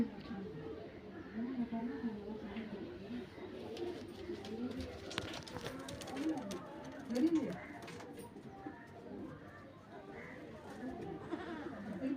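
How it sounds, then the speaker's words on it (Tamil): A pigeon coos in a home garden, repeating soft, low, rolling calls that sit close and steady. Quiet human voices and faint background sounds murmur around it. "புறா பெண் புறா"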